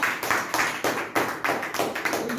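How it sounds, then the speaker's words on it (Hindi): A seminar audience applauding at a business event, a short patter of clapping with uneven, rhythmic hand claps, moderately close and fairly soft. "अपने लिए जोरदार तालियां कर दीजिए सर"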